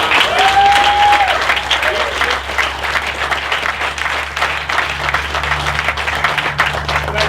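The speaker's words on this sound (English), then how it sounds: "Sean, give them a great round of applause" A large crowd applauds steadily for several seconds, dense clapping that stays loud throughout with faint voices mixed in.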